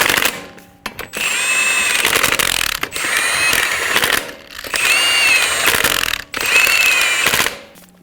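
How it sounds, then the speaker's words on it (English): An impact wrench snugs down lug nuts on a 2007-2011 Toyota Camry front wheel, loud rattling bursts repeated four times with short pauses between, close up. "Snug down the lug nuts."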